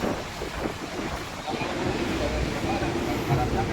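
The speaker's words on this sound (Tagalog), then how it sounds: "Update, malakas pa rin yung hangin sa Kalayo." Strong typhoon wind roars and buffets the microphone at Calayo in Nasugbu, Batangas, near the sea, with a continuous rushing gusty noise and a possible surf wash beneath.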